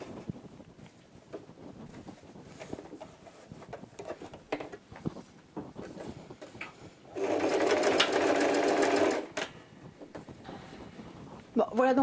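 A sewing machine stitches canvas fabric for a mushroom-shaped door stop, a loud rapid whirring burst of about two seconds midway, with quieter handling rustles and a short final burst; someone speaks before the stitching.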